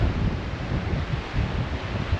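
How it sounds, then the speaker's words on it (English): Steady wind buffeting the microphone with a low rumble and constant hiss in rough, wet, rainy weather outdoors on the River Humber; no distinct raindrops stand out. "Bit grim conditions, it's raining and windy"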